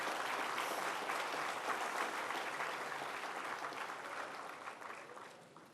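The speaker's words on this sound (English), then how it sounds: "please welcome the dignitaries on stage with a huge round of applause" Dense, sustained audience applause at a national leadership conclave greets dignitaries taking the stage, a steady wash of many hands that eases off slightly toward the end.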